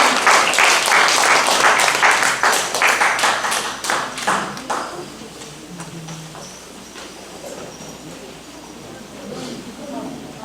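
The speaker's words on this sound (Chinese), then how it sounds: "来之前，我们先给他们鼓励鼓励，来掌声。" A church congregation applauds an elder choir at a seniors' memorial Sunday service, brisk clapping loud at first and then thinning out and fading to a quiet murmuring room.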